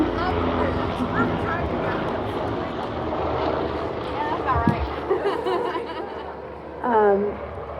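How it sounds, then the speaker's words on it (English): A steady engine drone of an airplane passing overhead fills the clip, with a few faint voices and a brief louder sound near the end. "wait for that plane to go over"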